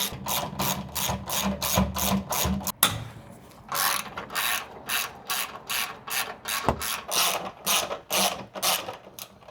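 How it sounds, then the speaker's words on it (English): A ratchet wrench clicks in rapid bursts, loosening 12mm skid plate bolts underneath a sixth-generation Toyota 4Runner, close-up and repeated several times with brief pauses between runs. "These are 12mm bolts, and we just need to remove it to remove this plate off."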